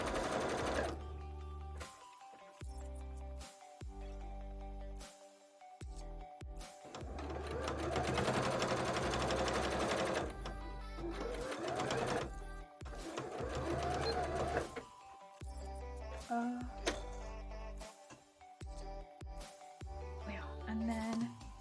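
A domestic sewing machine stitches a jellyfish-themed bra in several bursts of steady whirring, with stops and starts, some quiet handling between runs and a faint voice at times.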